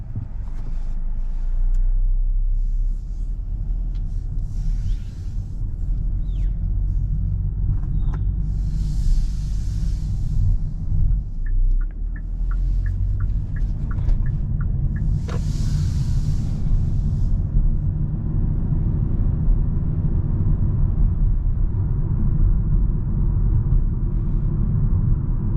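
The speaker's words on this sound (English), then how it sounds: "Alright, so driving this 2023 Hyundai Kona SEL." A 2023 Hyundai Kona SEL being driven gives a steady low road rumble and engine drone throughout, with faint brief clicks, heard from inside the cabin.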